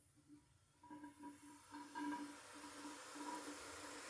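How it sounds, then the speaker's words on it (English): A Wilesco D32 live steam engine vents pressure, giving a soft, steady hiss with faint tonal whistles that swell after the first second, close and quiet with no talk. "we're purging the pressure down"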